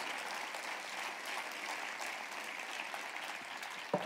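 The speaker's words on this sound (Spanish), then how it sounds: "darle un aplauso al Rey bendito" A church congregation applauds during a sermon, a steady wash of many hands clapping at moderate distance, ending with a brief bump near the close.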